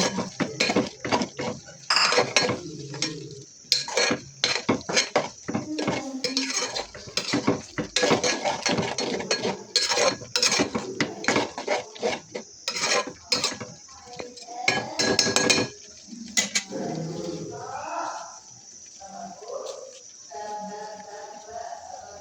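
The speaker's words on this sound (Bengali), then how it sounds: "ডিমটা টমেটো ভাজির সাথে ভালোভাবে নেড়ে চেড়ে মিক্স করে নিব" A spatula stirs beaten egg into a tomato fry in a metal pan, with repeated clinks and scrapes against the pan in an uneven rhythm, close and fairly loud, while a voice speaks briefly toward the end.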